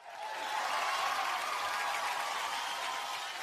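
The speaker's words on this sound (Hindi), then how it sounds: "जोरदार तालियां फॉर स्टार गिल्ड अवार्ड।" Audience applause at the Star Guild Awards ceremony, a dense, sustained burst of clapping from a large crowd that swells quickly and holds steady throughout.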